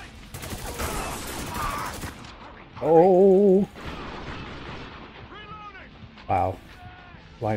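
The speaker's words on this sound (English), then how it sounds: "Fire in that semi-auto rifle" Semi-automatic rifle shots from the Spec Ops: The Line video game, sharp bursts at the start and a few scattered cracks later, mixed with radio-like tonal game sounds and brief voices.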